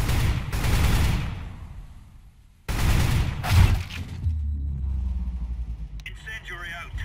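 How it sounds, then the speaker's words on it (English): A flashbang grenade bursts in the tactical shooter CS:GO, a loud broadband blast and hiss that rings out, then a second bang follows, with a player talking over the game audio. "Flashbang."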